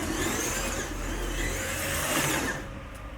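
A Scalextric Ford Mustang Fastback #18 slot car from the Clipsal 2011 series runs around a track, giving a continuous buzzing motor whine that rises and falls slightly, close by, with no voices.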